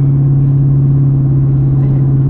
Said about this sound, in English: Listen to the purr of that V8, folks.